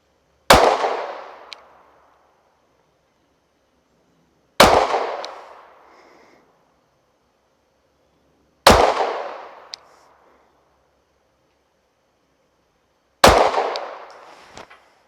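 Four single pistol shots from a Mossberg MC2sc on an outdoor range, each a sharp loud crack with a short decaying echo, spaced about four seconds apart with quiet between them.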